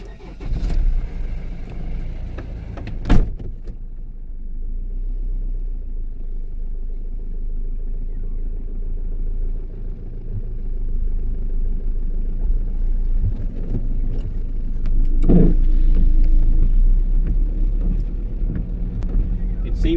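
A Ford Transit MK7 van's 2.2 TDCi diesel engine cranks and starts after an injector change, then idles with a steady, close, low rumble that rises slightly late in the run.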